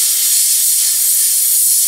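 An airbrush sprays paint at low PSI while preshading, giving a steady, close, loud hiss that runs unbroken throughout with no voices.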